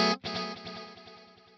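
Delayed electric guitar through a Line 6 Helix set to a reduced bit depth, a single struck note ringing with distorted, chorused tone and a train of fading repeats trailing off.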